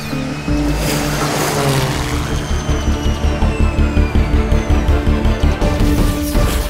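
An Airbus ACH145 helicopter runs in overcast, rainy weather; a loud, steady engine whine and broadband roar carry a rhythmic rotor thump that grows more distinct toward the end.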